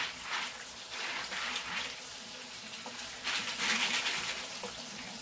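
Tap water runs steadily into a sink while dry beans are rinsed, a soft continuous gush with a few louder splashing surges as the flow is disturbed, faint and close, no talking.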